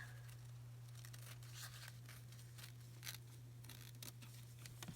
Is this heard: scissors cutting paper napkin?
yes